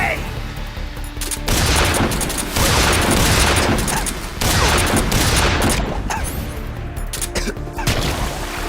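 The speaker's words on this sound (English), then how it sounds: "Grenade!" A grenade explodes in Metal Gear Solid 3, setting off loud, heavy blasts and crashing bursts in quick waves, with rough voices shouting among the din.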